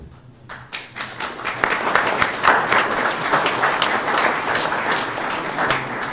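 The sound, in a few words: audience applause at a city council meeting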